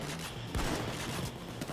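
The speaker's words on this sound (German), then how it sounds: "Shotgun. Boom." Shotgun blasts in the game Payday 2, a dense burst of gunfire with sharp low thumps around the middle, heard loud and close with no talk over it.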